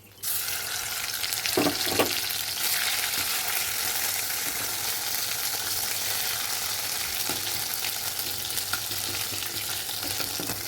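Whole spices sizzle and crackle steadily in hot oil: bay leaf, clove, cardamom and cinnamon. A constant frying hiss runs throughout, with a few louder pops early on, and no voices.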